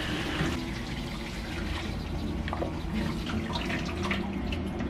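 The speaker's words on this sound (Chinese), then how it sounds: "清洗的时候也尽量用热水清洗啊" Hot tap water runs continuously over beef ribs being rinsed in a sink, a steady close splashing gush with no talk.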